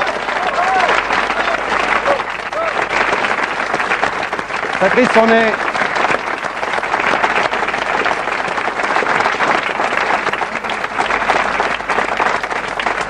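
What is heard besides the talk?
standing ovation applause for Patrice Duhamel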